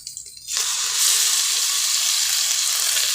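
Blended tomato paste with drumstick leaves hits a hot pan and bursts into a loud, steady sizzle after a brief quieter moment, frying continuously without talk.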